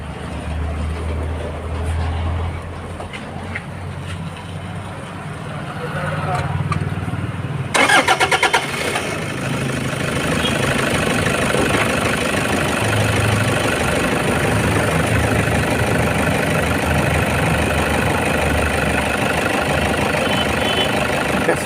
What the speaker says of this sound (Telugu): ఇంజన్ సార్ ఆన్ చేసేసాను సార్ మీరు.